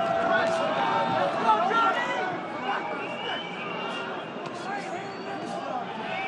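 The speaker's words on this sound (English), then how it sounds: "It's the crowd in Mexico City asking for a little more." Crowd at a boxing exhibition in Mexico City murmuring and calling out in a large arena, a steady babble of many voices with commentators talking over it.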